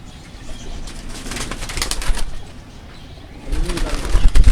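Pigeons in a rooftop loft coo softly in the distance beneath a murmur of background noise, with a louder rush near the end that sounds like wings flapping.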